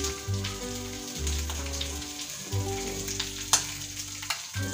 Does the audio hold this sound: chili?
yes